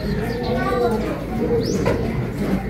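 Pigeons cooing in a loft during a racing-pigeon event in Agoo, La Union, with soft low coos and a brief chirp over steady background noise and people talking nearby.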